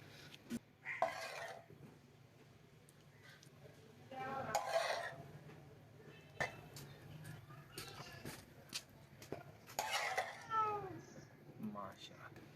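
Tawa-fried masala beef liver being scooped out of the pan into a dish: intermittent metallic scrapes and clinks of a spatula on the tawa, close and fairly loud, with a voice talking in between.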